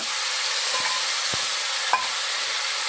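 Taro leaves hitting hot oil in a home cooking pan, where onion, garlic, dried chili and a bay leaf are already frying, give a steady, close sizzling hiss with a few brief stirring scrapes.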